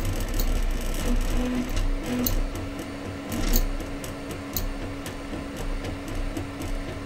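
A Zonestar P802QR2 3D printer printing a Millennium Falcon model, its stepper motors whirring and ticking steadily at moderate volume with a low hum and small clicks, and no one talking.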